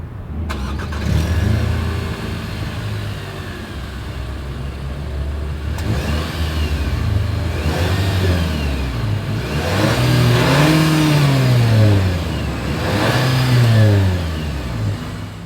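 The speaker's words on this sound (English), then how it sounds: "As always, here is that exhaust clip." A refreshed 2024 Nissan Sentra compact sedan's exhaust revs up repeatedly from idle, several rising and falling throttle blips with a loud, close mid-pitched engine note, no talk.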